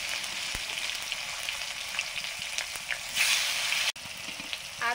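Turmeric goes into chopped tomatoes frying in mustard oil with black cumin for a small-fish curry; a continuous close sizzle swells briefly, then cuts out for an instant before resuming.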